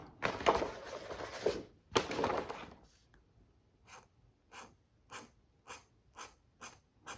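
An ink pen scratches steadily across smooth comic-drawing paper in two long strokes, then taps out a series of short, evenly spaced marks; quiet and close.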